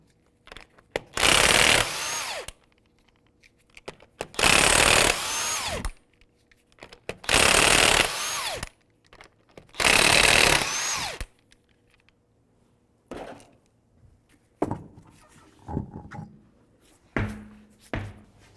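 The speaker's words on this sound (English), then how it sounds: "So we're going to loosen this nut." Power tool loosening a rear sway bar link nut on a 2005-2009 Subaru Outback, four loud whirring bursts of a few seconds each separated by pauses, followed by shorter clanks and ratcheting clicks.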